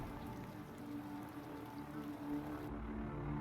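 Retroact rain falling in the game Wuthering Waves during a companion quest, a soft continuous patter of raindrops with a low ambient hum underneath, faint and steady, with no voices.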